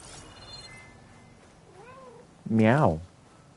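A cat in Horizon Forbidden West gives one short, loud meow near the end, after a quieter earlier chirp, with low background sound and no talk.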